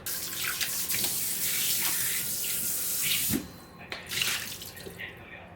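Tap water runs steadily into a sink as salted Spanish mackerel fillets are rinsed, a close, continuous splashing stream that cuts off sharply partway through, followed by a few softer splashes and drips.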